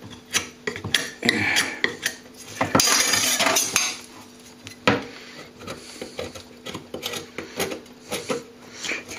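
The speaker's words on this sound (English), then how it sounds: "You gotta be careful not to scrape too hard or you make marks on the original plaster there." A thick layer of old green-over-ochre coating is scraped by hand off an original plaster cornice, giving repeated rough, rasping strokes with sharp gritty scrapes, close and fairly loud, with one longer sustained scrape partway through.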